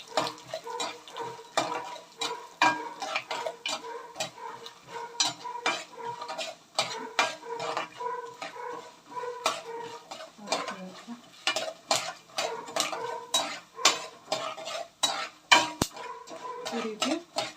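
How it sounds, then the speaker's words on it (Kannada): Peanuts, chana dal and urad dal frying in a pan while a spoon stirs them, with steady close metallic scraping and clinks against the pan throughout and a faint sizzle underneath, and no voices. "ಈ ಹಂತದಲ್ಲಿ ನೀವು ಕಡಲೆ ಬೀಜ, ಕಡಲೆಬೇಳೆ, ಉದ್ದಿನ ಬೇಳೆನ ಹಾಕಬೇಕಾಗುತ್ತೆ. ನೋಡಿ, ಇದು ಹಾಕಿದ ನಂತರ ಈ ಥರ ಚೆನ್ನಾಗಿ ಫ್ರೈ ಆಗಬೇಕಾಗುತ್ತೆ."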